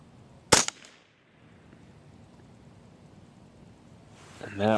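A single sharp .22 rifle shot fired with Aguila ammunition, loud and close, with a short decay into a quiet outdoor background, followed near the end by someone starting to speak.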